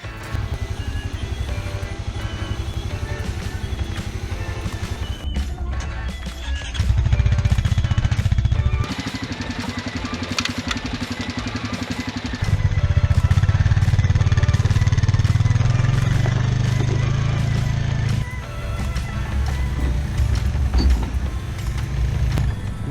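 A Honda Pioneer 500 UTV with a speed gear mod drives while towing a 1,000-pound trailer, its engine droning loudly throughout and rising and falling in pitch as it shifts and pulls under load.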